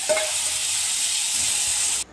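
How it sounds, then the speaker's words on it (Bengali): Green mango pieces sizzle and hiss steadily in hot oil with tempered dried red chillies as they are stirred, a broad frying noise that stops abruptly at the end. "এবার তেলের ভেতরে আমগুলোকে একটু আমি নেড়ে চেড়ে নিলাম"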